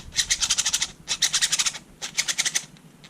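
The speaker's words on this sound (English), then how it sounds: "sound caused by the 3D printed layers rubbing against each other." Three bursts of fine, rapid scratchy clicking as 3D printed plastic layers of a 3x5x7 twisty puzzle rub against each other, each lasting under a second with short pauses between.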